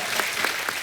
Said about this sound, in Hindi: जोरदार ताली प्रोमो के लिए।